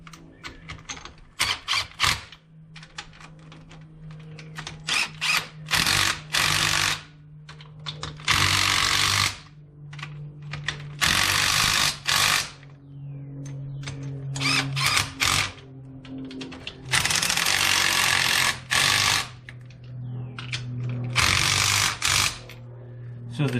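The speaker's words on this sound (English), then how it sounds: "this little 3/8 drive impact, it doesn't hardly put out enough to make 50 foot-pounds" A small 3/8-inch drive impact wrench runs bolts in on the front Dana 30 axle of a 1998 Jeep Cherokee XJ. It fires in loud, repeated hammering bursts of a few seconds each, with short pauses between them.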